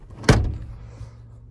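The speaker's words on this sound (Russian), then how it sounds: "Дверь открывается с левой стороны." Car door on a vehicle at a used-car market opening with a single sharp mechanical clunk near the start, followed by a fading rattle and low background hum.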